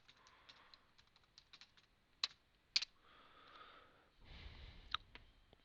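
Faint typing on a computer keyboard, scattered light key taps with a few sharper clicks, quiet and close with a soft background hum and no talk.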